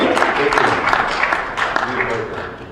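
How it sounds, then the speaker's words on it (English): A short burst of audience clapping at a DFL candidates forum for Minnesota's 8th congressional district, a dense steady patter at moderate volume that thins toward the end. "I think that was applause."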